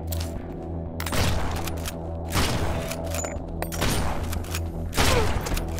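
Gunfire in the video game Lumencraft, loud bursts of shots arriving in a regular rhythm about every second, over a steady droning tonal background.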